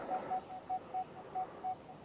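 A Nokta Legend metal detector gives a series of short, evenly spaced beeps, about seven in two seconds, moderately loud over a quiet background.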